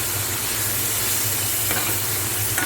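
Chopped onions frying in a kadai for kadai gosht, a steady dense sizzle with soft stirring scrapes, close and continuous with no talk.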